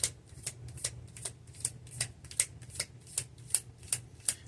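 A deck of tarot cards is shuffled by hand in about a dozen quick, evenly spaced riffles, each a crisp papery flutter, close and fairly quiet over a low steady hum, with no voices.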